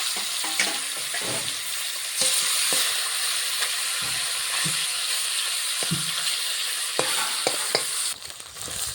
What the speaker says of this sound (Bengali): মুড়োটা ভেজে নেব।